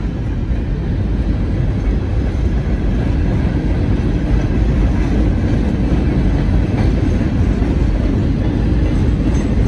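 A freight train led cab-forward by a switcher locomotive, hauling grain cars, rock cars and gondolas, rumbles steadily past in Mt Orab, close and loud. The deep wheel and rail roar holds without a break, with faint clickety-clack beneath it.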